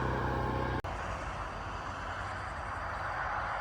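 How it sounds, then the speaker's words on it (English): Steady road traffic from the AA Highway at night, a continuous low rumble and hiss of passing cars and trucks that fills the whole stretch, with one brief dropout near the start. "Sorry about the road noise, nothing I can really do about that."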